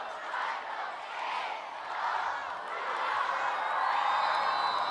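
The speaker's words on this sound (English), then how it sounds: "the crowd will now count us down to the start of the second half" Stadium crowd at a women's field hockey Champions Trophy semi-final between the Netherlands and Argentina chants a countdown, massed voices rising and falling in waves and growing louder toward the end.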